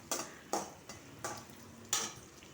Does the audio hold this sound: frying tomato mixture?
yes